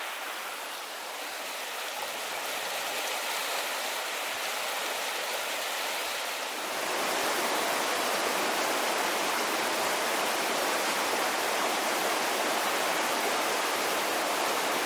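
Spring runoff rushes beneath White Bridge on the way into Peterborough, a steady broadband roar of fast water that swells louder and fuller about halfway through and holds there, with no voices.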